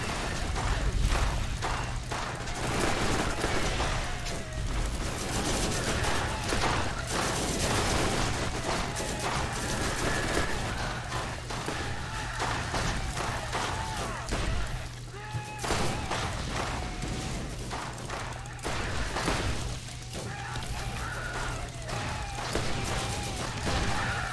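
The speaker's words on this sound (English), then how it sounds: "This is where we just start the fight with a bunch of fucking grenades." Grenade blasts and gunfire rage through a Borderlands firefight, a continuous loud wash of explosions and rapid shots under steady music, with a voice talking now and then over the din.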